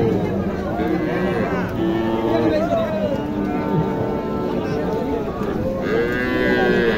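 Cattle moo repeatedly amid a noisy crowd at a rain-soaked cattle market in Naogaon, Bangladesh, long low calls overlapping with busy chatter of many people nearby.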